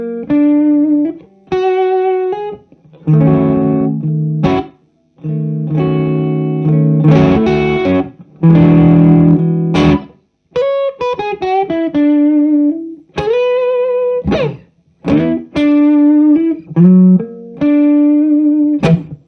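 Electric guitar played straight into a Dr Z Maz amp with no pedals, a clean phrase of chords and single notes in bursts with brief pauses between them.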